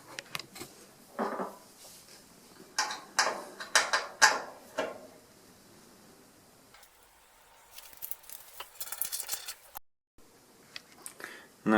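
Screws coming out of a clothes dryer's lint trap cover, heard as intermittent close clicks, rattles and scraping bursts with quieter gaps between them.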